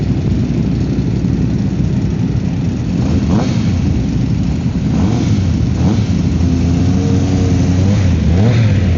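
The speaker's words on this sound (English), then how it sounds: "Hear the rattle of that dry clutch." A Ducati motorcycle with a dry clutch revs nearby, its engine rumbling loud and continuous with a rattling undertone and a few rising revs, heard outdoors at a car and motorcycle gathering in Italy.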